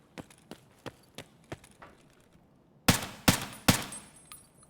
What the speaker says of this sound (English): that suppressor makes such a big difference